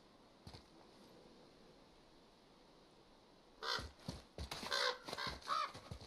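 Several crow caws ring out in the video game God of War, arriving in a loose cluster of sharp, fairly loud calls after a quiet stretch of ambient hum.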